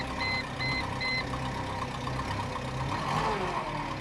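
Mercedes SLK230 engine idles roughly and struggles to stay running, a steady low rumble, with three faint reversing beeps from another vehicle early on.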